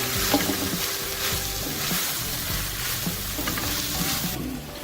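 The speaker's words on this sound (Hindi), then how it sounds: "इन दोनों को 1 से 2 मिनट के लिए फ्राई करेंगे।" Steady loud sizzling of chicken chow mein ingredients with capsicum frying in a hot pan, with continuous stirring and scraping throughout.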